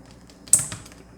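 A single sharp keystroke clack on a new Commodore SX-64 portable computer keyboard, heard once near the middle of a quiet stretch of room tone.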